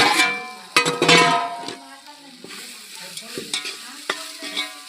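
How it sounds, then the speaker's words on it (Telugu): Tomatoes fry in a pan while a spoon stirs them, producing scraping clatters and soft sizzling, with a busy burst of stirring early on and lighter intermittent scrapes after. "ఒక్క నిమిషం టమాటా మగ్గించుకున్నా."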